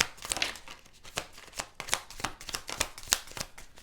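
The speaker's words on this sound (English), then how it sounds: "We'll do one more shuffle here." Tarot cards are shuffled close up, a quick run of riffling flutters and soft slaps in an uneven rhythm, with no talking.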